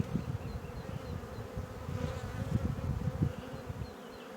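Dense, steady buzzing of many honey bees close up at a hive during queen rearing, a continuous low hum that swells slightly and fades near the end.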